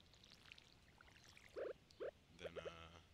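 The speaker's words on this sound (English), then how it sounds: "Water the ground." Watering can sprinkling the soil in the Stardew Valley farming game: a few short, soft watery chimes in quick succession, quiet against a faint background of game ambience, with no talking.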